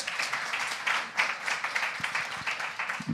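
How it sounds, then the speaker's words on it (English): Crowd applause at a Flutter Warsaw meetup on banking apps, moderately loud scattered clapping that swells and fades in waves. "So I think it requires an applause"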